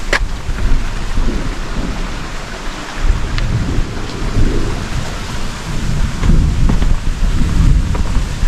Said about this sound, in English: there was some thunder in there.